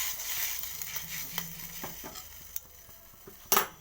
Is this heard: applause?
no